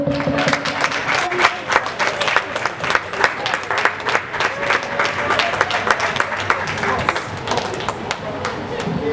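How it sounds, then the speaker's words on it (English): Audience applause fills a conference hall at a Lagos food safety summit, steady dense clapping for about nine seconds with a few voices mixed in. "Once again, a round of applause for her"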